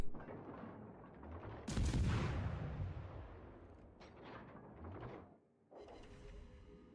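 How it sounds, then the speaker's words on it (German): Naval guns fire at the battleship Warspite in World of Warships Legends: one heavy, booming salvo rolls out and decays, followed by a few smaller, fainter blasts, with no voices. "können wir ruhig hier mal auf die Warspite schießen"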